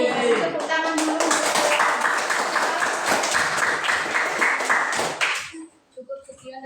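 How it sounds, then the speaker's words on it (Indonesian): A classroom of junior high school students breaks into loud, dense applause with some cheering voices, holding for about five seconds before cutting off abruptly, after which a few faint sounds and a quiet voice follow. "Kasih tepuk tangan dulu."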